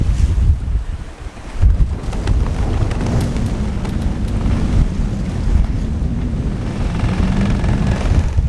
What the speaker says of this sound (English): We've got these big gusts coming down off the hills